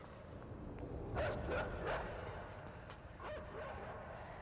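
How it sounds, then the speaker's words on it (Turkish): In the video game INSIDE, a dog gives several short barks and yips at a distance over a low, muffled background rumble. "Ay köpek o."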